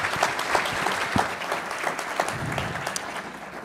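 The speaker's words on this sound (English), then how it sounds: "So give them a round of applause" Sustained applause from an audience at a legal breakout session, welcoming the panel of judges; dense, steady clapping with a few sharper claps standing out, fairly close and filling the whole stretch.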